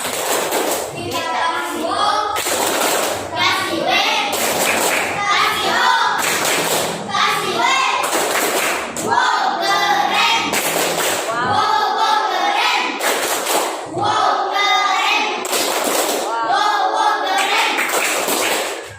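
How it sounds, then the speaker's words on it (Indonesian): A class group claps in a repeated rhythmic appreciation-clap pattern, loud and close, with voices chanting along between the bursts of clapping. "Tepuk apresiasi dulu."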